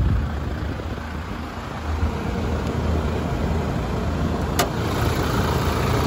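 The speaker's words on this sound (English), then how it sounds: "have a look underneath the bonnet while she's still running." A 2016 Toyota Prado GXL idling with the bonnet open, a steady low engine rumble heard close up for several seconds with no speech.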